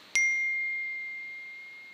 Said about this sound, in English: I don't know how to turn off notifications on my computer